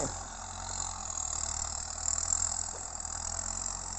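MU 5501 tractor engine running steadily while ploughing a field to prepare soil for sugarcane, a constant moderate rumble with a faint rattle, heard from some distance with no voices.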